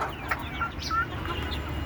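Soft, intermittent clucking from native free-range chickens nearby, a few short calls over a low steady background hum.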